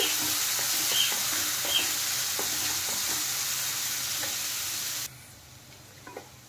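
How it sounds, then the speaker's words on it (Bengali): Chopped onion and green chilli frying in hot oil, a steady broadband sizzle with a few light stirring clicks, close and continuous, then dropping abruptly to a quieter hiss near the end. "পেঁয়াজটা একটু হালকা ভেজে নেব"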